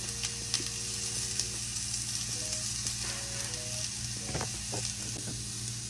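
Shrimp, bell peppers and onions sautéing in a pan: a steady close sizzle runs throughout with a low hum beneath, a few faint tonal beeps, and light utensil clicks and scrapes near the end.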